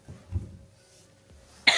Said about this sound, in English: the coughing is killing me